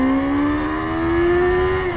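Kawasaki ZX6R motorcycle with a 636 cc inline four-cylinder engine revving high, a loud rising whine that climbs steadily and holds near the top, heard alone and up close.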